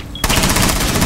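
Automatic gunfire in the tactical shooter game Rainbow Six Siege, a sustained loud burst of rapid shots starting abruptly after a brief quiet moment and continuing steadily to the end.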